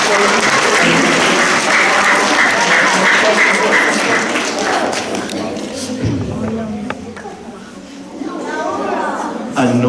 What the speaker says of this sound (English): Can we get one more round of applause for our very talented gymnastics?